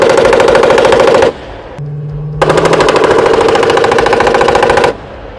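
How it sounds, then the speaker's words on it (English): A Bradley's M242 cannon firing armor-piercing rounds: two long, loud, rapid bursts of evenly spaced heavy shots, close and dominant, separated by a short pause filled with a lower engine-like hum. "M242 can fire 200 rounds per minute of armor-piercing ammunition."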